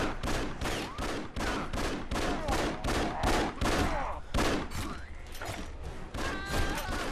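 Gunfire from the video game Afterfall: Insanity, a dense run of repeated shots and impacts that stays loud and busy throughout, with scattered game effects between bursts.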